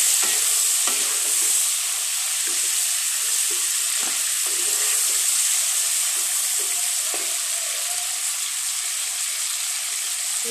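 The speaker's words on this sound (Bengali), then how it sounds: "তেজপাতা, এলাচ, দারুচিনি দিয়ে দিলাম।" Bay leaf, cardamom and cinnamon frying in hot oil for prawn pulao, a loud continuous hiss and sizzle held close throughout, with a few light clicks of a utensil and no voices.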